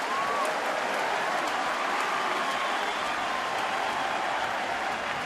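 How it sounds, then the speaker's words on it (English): Baseball stadium crowd at a Yankees versus Red Sox game at Boston, cheering and applauding in a steady, dense roar that holds throughout, with faint broadcast talk underneath. "Crowd really getting into it now."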